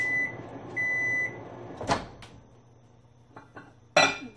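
Microwave oven melting beeswax hums for a moment, then its chime beeps sound, followed by the door clicking and a sharp clunk as it opens.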